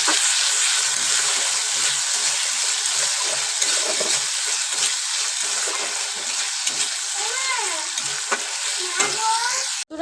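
Ginger and garlic with salt sautéing in a wok, a loud, dense sizzle held close throughout, with spatula scrapes and stirring knocks over it and a clatter at the end.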